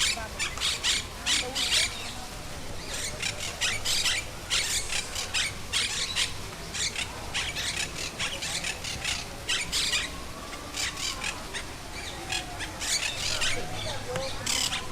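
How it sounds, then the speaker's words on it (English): A green parrot squawks repeatedly outdoors in Cadiz, Spain, harsh calls in irregular bursts over steady ambient noise, fairly close and loud throughout. "it looks like a green parrot"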